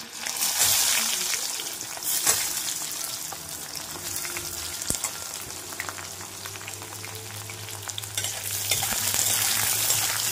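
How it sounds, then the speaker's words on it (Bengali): Steady sizzling of whole garlic and chopped onion frying in a pan with occasional stirring scrapes, close and continuous, with faint voices at times. "একটু ভাজা ভাজা করে নেব"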